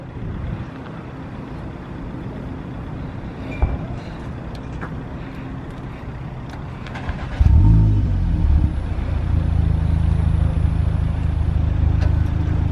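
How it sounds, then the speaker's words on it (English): A VW Golf R 7.5 in a retail park car park starts up with a sudden loud burst at about the midpoint, then settles into a deep, steady idle after a quieter stretch of background noise. "We're literally revving the car in the middle of this retail park."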